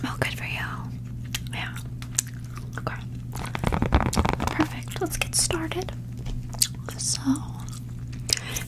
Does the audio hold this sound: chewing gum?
yes